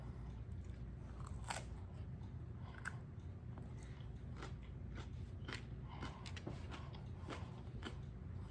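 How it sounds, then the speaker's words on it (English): Someone chews a thick yellow Fatali pepper close to the mic, producing a steady run of wet crunches and bites that repeat for several seconds, with no talking. "Sorry, it's a lot of chewing."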